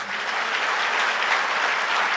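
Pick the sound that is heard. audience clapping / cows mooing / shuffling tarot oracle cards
audience clapping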